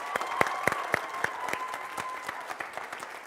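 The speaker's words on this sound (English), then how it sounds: "let's give them another round of applause too" A high school choir concert audience gives another round of applause, a smallish crowd clapping unevenly with some sharp individual claps standing out, moderately loud and steady.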